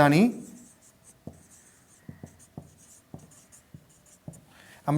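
A formula for the present value of an ordinary annuity is written by hand during a finance lesson: a scattered series of short, crisp pen or marker taps and strokes, close and fairly quiet, with a voice speaking briefly at the start and end.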